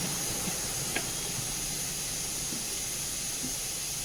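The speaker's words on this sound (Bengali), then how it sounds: "আর কুকারে হচ্ছে যে বাদাম সেদ্ধ করতে দিয়েছে" A kitchen pressure cooker boiling peanuts lets out a continuous, steady hiss of escaping steam, moderately loud and unbroken, with a faint click and no voices.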